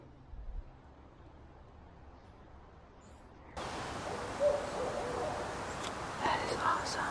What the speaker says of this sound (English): There is an owl.